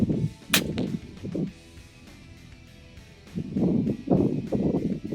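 A single sharp crack from an FX Impact airgun firing a slug during farmyard pest control, loud and brief near the start, followed by quieter outdoor rustling and low thumps.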